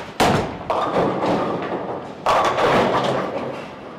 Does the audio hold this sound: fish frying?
no